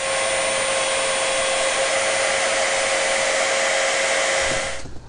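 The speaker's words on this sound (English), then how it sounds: "went ahead and sanded down the edge of all that" A power sander grinds down the edge of a part while fixing a Coleman Power Steel pool sand filter, a loud, steady whirring drone held for about five seconds before it cuts off.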